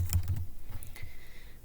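Soft, quick keystrokes tap on a computer keyboard while text is typed into a diagram, a short run of faint clicks in a quiet room.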